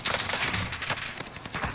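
Gunfire in Warzone: a dense, fast crackle of rapid shots, fairly quiet and muffled, running continuously through a short burst.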